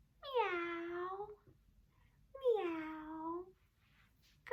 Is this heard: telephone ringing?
no